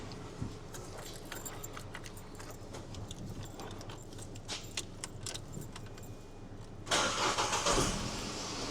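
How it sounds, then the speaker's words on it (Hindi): A car with a newly fitted sensor is started by key: keys jingle and rattle through several seconds of clicks and handling, then the ignition turns over and the engine catches into a louder steady idle. "गाड़ी को स्टार्ट कर देता हूँ मैं"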